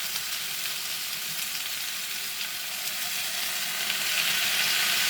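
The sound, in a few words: vegetables frying with soy sauce in an Elite Gourmet skillet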